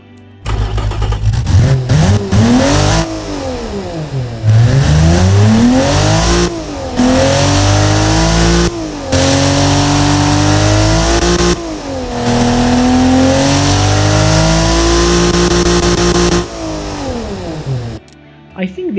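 A BMW S50B30US 3-liter inline-6 engine in the Automation game, tuned with a 3-inch exhaust, revs up and down repeatedly through a series of loud, rising and falling sweeps with brief pauses between them.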